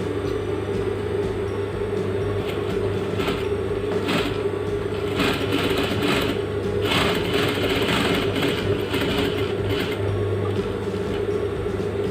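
A sewing machine stitches a welt (pasepoille) pocket with a flap on a suit jacket, giving a steady, close mechanical whir and rattle that runs unbroken and fairly loud, with no talking.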